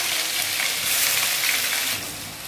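Ginger and garlic fry in a hot pan for a matar paneer curry, a loud, close, continuous hissing sizzle that eases slightly near the end.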